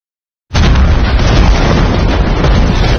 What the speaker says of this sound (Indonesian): Tae-gu meledakkan bom bunuh diri dan menghanguskan tempat tersebut